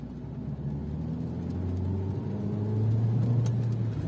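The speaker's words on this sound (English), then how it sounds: "when the vehicle is in eco and you like just blip the throttle, you can hear a faint turbo" A 2016 Mercedes C180 turbo engine pulls in eco mode, a steady low drone that swells slightly toward the end while a rising engine tone climbs gradually, heard from inside the car without speech.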